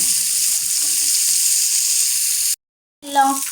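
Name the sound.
sardines frying in a pan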